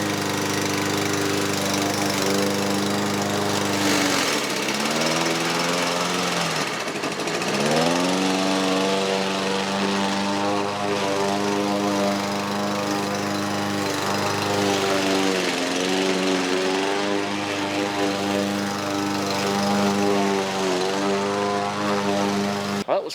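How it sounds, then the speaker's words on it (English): A running lawn mower shreds an object. Its loud, close, buzzing engine drone holds steady but drops in pitch several times as the motor bogs under load, then recovers. "It's a lawnmower."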